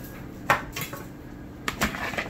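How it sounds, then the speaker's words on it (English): Seasoned vegetables in a bowl are stirred with a utensil, producing two short clusters of clinks and scrapes against the bowl in otherwise quiet surroundings. "Give it a stir."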